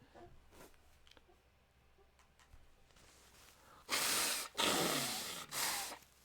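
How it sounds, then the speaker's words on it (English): Three loud, forceful nose blows into a tissue, each a harsh honking rush of air, preceded by a few seconds of quiet shuffling. "let me blow my nose real quick"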